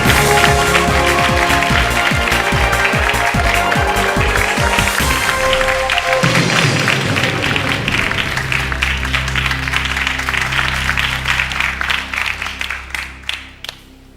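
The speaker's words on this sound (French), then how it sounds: "c'est Brahima que je vous demande d'applaudir" A TV quiz show studio audience applauds a contestant with dense, loud, sustained clapping that holds for several seconds over a musical backing, then thins out and fades into scattered last claps.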